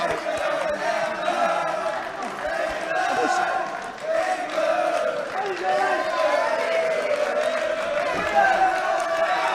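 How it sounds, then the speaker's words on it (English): An English crowd roars and cheers steadily throughout a fight venue during a grappling bout, a loud, sustained mass of voices with shouts rising and falling and no single voice standing out. "Huge support from the English crowd here in the venue."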